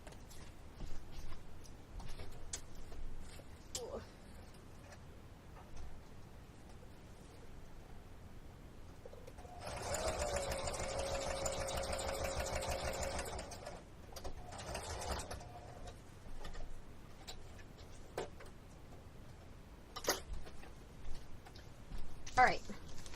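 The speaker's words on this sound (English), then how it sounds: "Okay, I'm going to go to the sewing machine real quick. I'm just going to do a stitch right down here." Sewing machine running a zigzag stitch, a steady mechanical whir lasting about four seconds, followed by a short second burst, set among quiet handling noises in a room.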